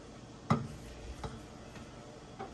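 A spoon stirring mac and cheese sauce with heavy cream in a pot, a few light scraping ticks against the metal spaced irregularly, one sharper knock early, otherwise quiet.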